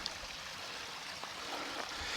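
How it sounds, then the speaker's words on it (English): A small creek with a little waterfall flowing at a lakeside campsite in Killarney, Ontario, heard as a soft, steady, fairly faint rush of running water with no talking. "We've got ourselves a little creek over here"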